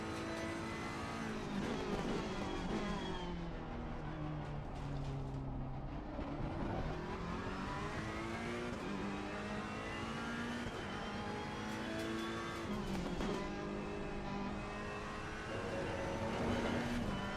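A Ferrari race car in a racing video game revs high in second gear at Snetterton, its engine note a continuous loud whine sweeping up and down in pitch, with other cars droning alongside.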